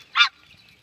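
A single short honk from a king duck, one of a pair being shown for sale, loud and close with no voices.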